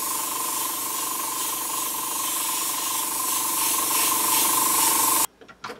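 Black spray paint is applied in a continuous close, loud hiss over a dungeon-scenery stencil, holding steady for about five seconds before cutting off abruptly, followed by faint handling sounds.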